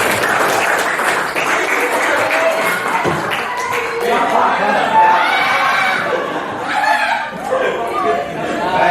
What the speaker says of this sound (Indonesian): Tepuk tangan dong untuk Bapak Imron